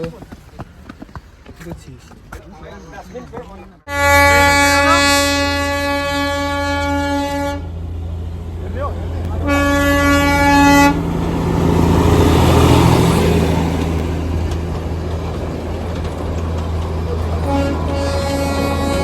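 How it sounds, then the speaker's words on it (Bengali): A Darjeeling toy train rumbles close by near Batasia Loop and sounds a loud, sustained horn that cuts in and out several times, with voices chatting faintly before it arrives. "এই টয় ট্রেন গেল"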